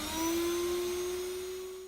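A built-in shop vacuum in a GMC Yukon runs with a steady, even motor whine holding one pitch throughout, close and continuous with no talking over it.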